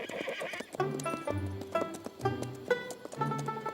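A horse neighs in several loud, shrill whinnies with hoof clip-clops between them, close and clear, with no talk over it.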